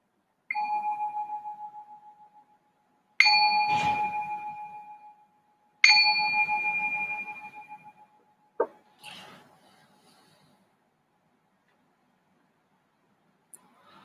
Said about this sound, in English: I just ring this bell to signal the start of our first meditation